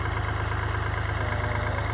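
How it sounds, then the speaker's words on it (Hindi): A tractor engine pulling a plough through a field chugs loudly and steadily, a dense, even low rumble with rapid regular pulsing and no talking over it. "ट्रैक्टर से हल कैसे चलते हैं, शोर बहुत ज़्यादा होगा"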